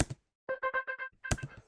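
A short, bright delay effect pitched up twelve semitones: five quick repeating plucked blips in an even rhythm, followed by a sharper hit with a brief echo.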